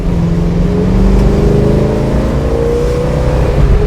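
A 1971 Dodge Challenger accelerating hard, its engine roaring steadily with rising tonal harmonics, loud and close from inside or beside the car, with no talk.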